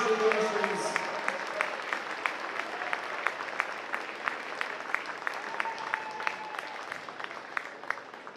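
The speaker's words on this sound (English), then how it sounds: "We could please give a round of applause for both the boys and girls senior athletes." A gym audience at a girls varsity basketball game claps steadily in applause for the senior athletes. The clapping is fairly faint and distant, with brief voices at the start.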